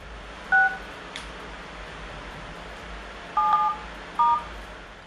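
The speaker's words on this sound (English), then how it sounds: "dialing a completely different number followed by 2 sevens and an asterisk" Telephone keypad tones dialing a different number, ending with two sevens and an asterisk: a pair of short beeps, then a pause and two more quick beeps, clear over a low steady hiss with no talking.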